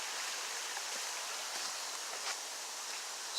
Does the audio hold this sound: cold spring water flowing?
yes